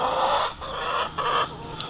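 Chickens in a farm run clucking in a steady, busy murmur up close, with brief dips in volume and no talking.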